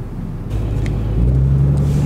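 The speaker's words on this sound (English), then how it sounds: "As soon as you try to pin it, it just completely loses traction and just starts spinning the tires." A 2018 Cummins 6.7 diesel pickup truck revs hard while its tires spin and lose traction, the engine rumble swelling and rising in pitch partway through, with voices talking over it.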